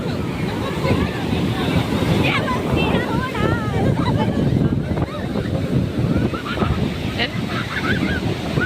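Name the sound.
rough sea waves at Puri beach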